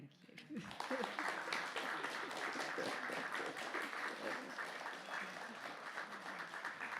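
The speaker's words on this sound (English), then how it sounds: "Round of applause for Vicky Orton, please." A Burns Night audience gives a sustained round of applause for a performer, with steady, moderately distant clapping that rises quickly and holds for several seconds.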